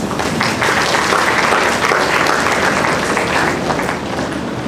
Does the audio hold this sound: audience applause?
yes